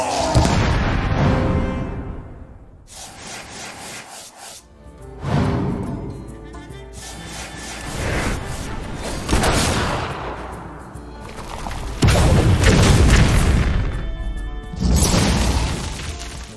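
Explosions in the card game Hearthstone boom and crash in repeated heavy bursts, with brief dips between the loud blasts, and nobody speaks.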